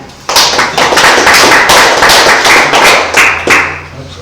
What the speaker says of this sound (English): Perhaps I don't normally give applause like that.